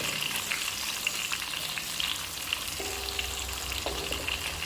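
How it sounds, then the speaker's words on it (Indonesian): Petai stink beans stir-fried in a pan, a continuous close sizzle and crackle with faint stirring underneath and no talking. "Nah, kita masukkan pete, kita tumis seperti ini."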